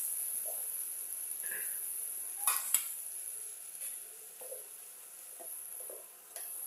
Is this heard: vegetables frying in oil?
yes